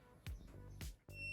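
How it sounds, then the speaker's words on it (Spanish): A non-contact voltage detector signals live voltage with a few short electronic beeps at a quick irregular pace, faint but clear against a quiet room, with no talking. "Cuando encuentra tensión, el equipo avisa mediante luz roja y pitidos."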